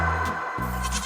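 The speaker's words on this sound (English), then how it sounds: "G for goat." A goat bleats twice in quick succession, a loud, close, wavering cry followed after a short pause by a second, similar bleat, with no talking.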